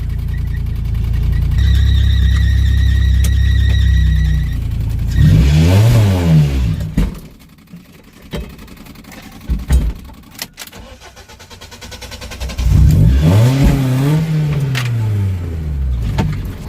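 A car engine revs hard in long roaring bursts with rising and falling pitch during a burnout attempt, separated by quieter idling and clunks, loud and close; the car has a major fault.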